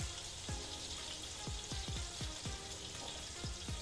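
Chopped onion fries in a pan with a spoonful of salt, giving a soft, steady sizzle broken by scattered sharp crackles and pops. The sound is faint and there is no talk.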